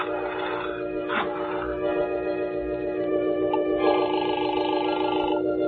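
In an old-time radio drama, a telephone rings with a steady, sustained trilling tone that is loud and fills the whole moment, with no talk.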